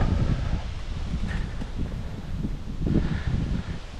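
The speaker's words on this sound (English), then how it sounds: "I don't know how well you can hear with this wind" Wind buffets the microphone on a nature preserve trail during a mountain bike ride, a continuous low rumbling roar with gusty swells throughout.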